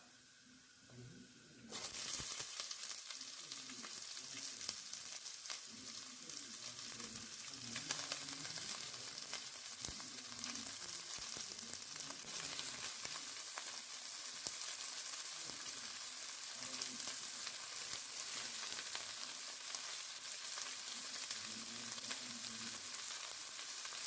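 Vegetables and garlic sizzle and hiss in a hot pan, a sudden loud burst as they hit the oil settling into a steady, close crackle with occasional stirring scrapes.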